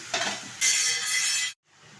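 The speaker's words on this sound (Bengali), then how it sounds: "ভালোভাবে নাড়িয়ে নিচ্ছি" An eggplant and potato curry with small shrimp is stirred in a pan, giving two short bursts of loud, close scraping sizzle before a sudden stop and a quieter hiss.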